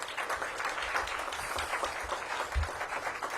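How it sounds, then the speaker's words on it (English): An audience at a mayoral event in DC gives a round of applause, a steady, moderately loud clatter of many hands with a few low thumps. "So let's give them a big round of applause"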